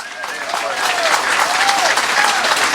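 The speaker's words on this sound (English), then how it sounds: "Can I have a big cheer for the CRA who put this on?" An audience at a Ventura County Republican Assembly debate breaks into loud applause and cheering, a dense wash of clapping that builds and holds steady, with whistles cutting through the crowd.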